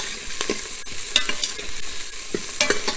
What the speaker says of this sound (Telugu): ఆ స్మెల్ పోయే వరకు ఒక 2 minutes ఫ్రై చేయండి